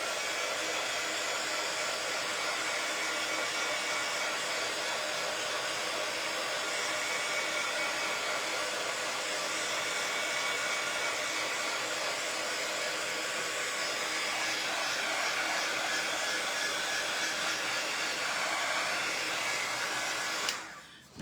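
A hair dryer blows steadily on painted parts of a bunny-inside-egg DIY kit, a continuous close, even airy whir lasting about twenty seconds before it clicks off.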